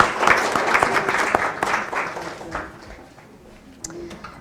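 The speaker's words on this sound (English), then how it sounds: "You can have a virtual round of applause." Conference audience claps for a speaker at the Africa Together Conference, a full round of applause that is loud at first, then thins and fades to scattered claps.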